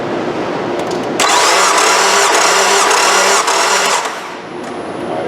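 A Nissan 2.5 engine with a misfiring cylinder cranking at wide open throttle during a compression test, a loud steady rhythmic starter whir running about three seconds before winding down.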